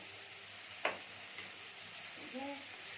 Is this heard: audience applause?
no